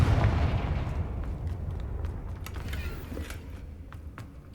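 A Confringo fire spell blast in Hogwarts Legacy hits at the very start as a heavy, rumbling burst, then fades over several seconds into a crackling, hissing tail, with no one talking.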